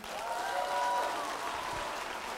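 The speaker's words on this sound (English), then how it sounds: "Can we give a round of applause to Peggy Lee right here?" Audience applause for Peggy Lee at a motivational speaking event, a steady wash of clapping from a crowd that holds an even level throughout, with faint tonal hum running beneath it.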